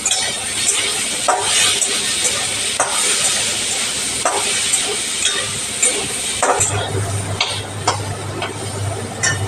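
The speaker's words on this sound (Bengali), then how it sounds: "হলুদ দিলাম, ভালো করে কষিয়ে নিই" Curry with turmeric frying in a pan, a continuous loud sizzle broken by repeated clinking scrapes of a spoon stirring against the metal at an uneven rhythm, with no talking.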